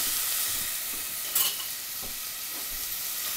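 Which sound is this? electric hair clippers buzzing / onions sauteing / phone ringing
onions sauteing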